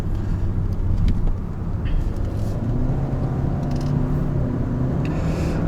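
A Hyundai Sonata The Edge 1.6T in sport mode on a winding road, its engine a steady low drone with road rumble, heard from the cabin and holding fairly even throughout.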